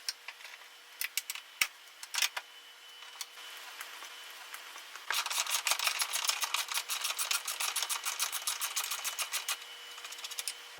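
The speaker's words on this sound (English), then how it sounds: "So let's just go ahead and crack these 16mm ones loose. We'll get the ratchet on there." A ratchet works 16mm bolts loose on a 2004 Saab 9-3 Arc motor mount. A few scattered clicks come first, then a long, fast run of close, crisp ratcheting ticks.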